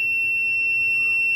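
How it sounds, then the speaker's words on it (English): A high voltage tester's buzzer sounds a loud, steady high-pitched electronic tone, continuous and close, during an electrical safety test on an iron. "Then start the HV tester, the buzzer will go on."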